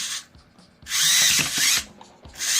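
Small motor driving the thumb of a 3D printed InMoov robot hand, heard as three close, bright whirring bursts separated by brief pauses.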